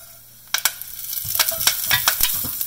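Cumin seeds and torn curry leaves hit hot coconut oil in a pan and begin spluttering at once, sharp crackles and pops growing into a busy, close sizzle.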